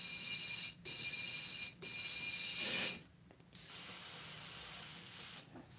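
Airbrush spraying in steady bursts of broad, high hiss, with brief pauses between them and a louder burst near the middle, close and continuous, no voices.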